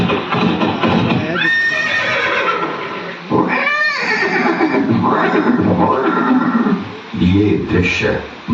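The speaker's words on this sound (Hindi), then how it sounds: "ये दृश्य महाराणा प्रताप और सुविख्यात स्वामी भक्त घोड़े चेतक के अंतिम मिलन का है।" Horse neighing and hoofbeats in a staged scene effect of Maharana Pratap's loyal warhorse Chetak at Haldighati, with several loud whinnies rising and falling over clip-clopping hooves and dramatic background sound.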